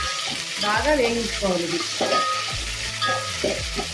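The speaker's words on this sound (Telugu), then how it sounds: "ఎండుమిరపకాయలు, పచ్చిమిరపకాయలు, కరివేపాకు బాగా వేయించుకోవాలి." Dried red chilies, green chilies and curry leaves fry in hot oil for sambar, giving a crackling sizzle with stirring clatter and a few spoon knocks against the pan.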